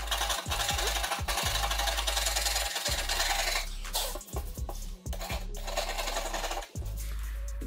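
A chisel and sanding scrape rust spots off a car body, making loud, rough rasping strokes in an uneven rhythm, broken by short pauses and sharp knocks, close by with no talking.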